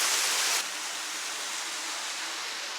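Water rushing through a narrow sandstone channel at the Devil's Bathtub in Hocking Hills State Park, a steady broadband roar heard close up, slightly louder for a moment at the start, with no voices.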